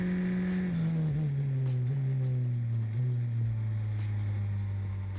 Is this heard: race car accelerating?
yes